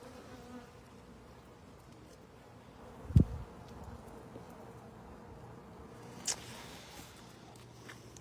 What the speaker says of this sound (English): This is a nice big swarm.